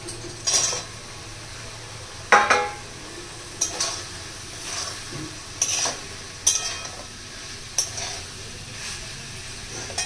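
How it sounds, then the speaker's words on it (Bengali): Paneer pieces are dropped into a pan for butter paneer and stirred, giving several spaced metallic spoon scrapes and clinks against the pan over a faint steady sizzle, close and fairly loud. "এবার আমি এই পনিরগুলো এর মধ্যে দিয়ে দিচ্ছি।"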